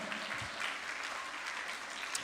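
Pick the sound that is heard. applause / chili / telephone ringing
applause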